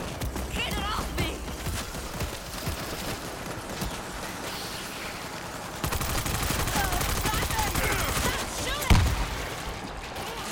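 Dense game gunfire from World War Z in a New York level, bursts and rapid fire rolling on throughout, louder after the midpoint with a sharp crack near the end, under shouting voices.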